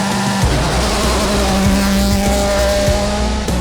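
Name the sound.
rally car racing at night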